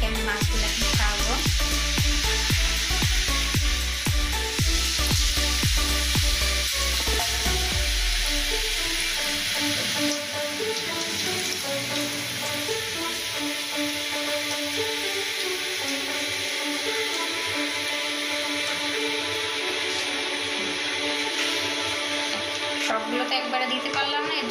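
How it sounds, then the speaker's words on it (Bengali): Rui fish pieces fry in hot oil with a loud, steady sizzle that runs throughout, and a heavier crackle burst near the start settles into continuous frying. "একে একে আমি মাছগুলো ভাজবো।"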